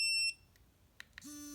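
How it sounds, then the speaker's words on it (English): A dog training collar (My Pet Command MPC625) gives a steady high electronic tone alone, then two short chirps, followed by a sustained lower beep; close and clear with no talking. "we should hear a beeping noise"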